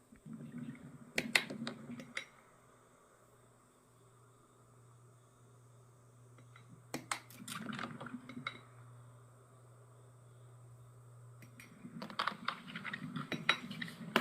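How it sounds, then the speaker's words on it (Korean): Fermenting maesil plum enzyme liquid being stirred on its twelfth day, with quiet clinks and scraping in three separate bursts against faint steady background hum. "12일차 발효액도 골고루 잘 저어줍니다."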